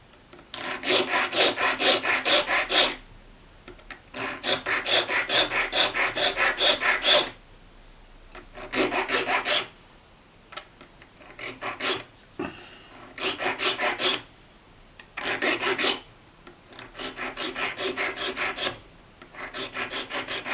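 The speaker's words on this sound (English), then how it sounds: "I'll take my little file." A small hand file rasps across the fretboard of a vintage Sakai/Audition electric guitar during radiusing. Close, rhythmic scraping strokes come in repeated bursts of a few seconds, separated by short pauses.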